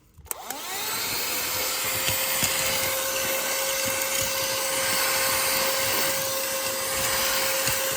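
A budget handheld car vacuum cleaner, running with its brush adapter removed, whirs up from a start and then holds a loud, steady motor whine with airy suction noise. It runs alone, close to the microphone, with no talking.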